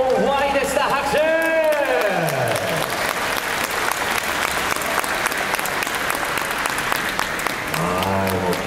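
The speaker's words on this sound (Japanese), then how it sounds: "拍手。" Audience applause at a Japanese stage event featuring idol units, steady and dense throughout with cheers and voices mixed in, and louder calls near the start and end.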